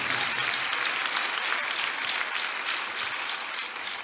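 A church congregation applauds to celebrate Jesus during a French-language service, a dense, sustained wash of many clapping hands at moderate volume that continues for the whole stretch and gradually tapers slightly near the end.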